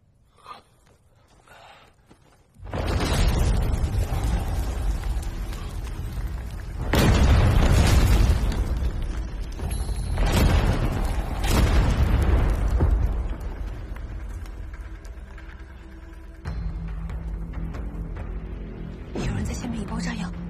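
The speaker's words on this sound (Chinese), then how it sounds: "有人在下面引爆炸药。" Underground explosive charges detonate in a deep ancient city ruin, heavy rumbling booms rolling in after a quiet start, swelling in several loud surges that sustain and echo, with voices heard faintly amid the blasts.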